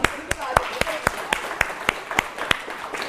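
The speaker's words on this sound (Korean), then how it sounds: "박수" Slow, scattered applause from a small audience at a healing-story talk about breast cancer, about a dozen separate sharp claps spaced unevenly, with voices talking underneath.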